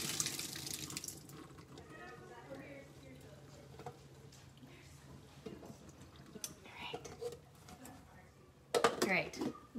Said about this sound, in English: what we're going to do with our potatoes is we're going to drain the water out of it.